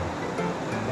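Strong river current flowing steadily on a mountain outing, a continuous broadband rush of water close by with no talk over it.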